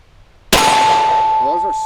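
A 10mm handgun round striking a steel target, a single sharp, loud metallic clang that rings out with a sustained tone.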